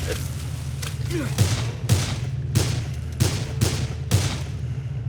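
Gunfire from the Dead Island: Riptide video game: a string of sharp shots at roughly half-second intervals, fairly loud over a steady low engine-like hum, with no talking.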